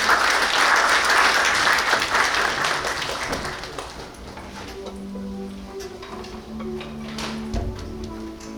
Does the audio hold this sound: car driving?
no